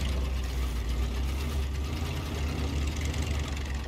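Heavy truck engine running steadily in the SnowRunner off-road game, a continuous low rumble with mechanical rattling, close and alone throughout.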